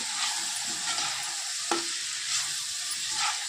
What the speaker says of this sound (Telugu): ఈ విధంగా మనం బాగా కలుపుకోవాలండి